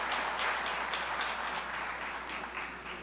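Continuous applause from an audience of elders at a church retreat welcoming a pastor to the stage, a dense, steady wash of clapping at moderate volume that eases slightly toward the end.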